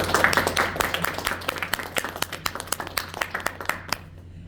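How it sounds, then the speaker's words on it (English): An audience applauds after a group speech about zodiac signs, a dense burst of many hands clapping that gradually thins out and stops near the end, with a faint voice underneath. "They started clapping right as you were finishing."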